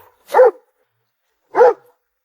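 A big black dog gives two loud, separate barks about a second apart, close by and with silence around them.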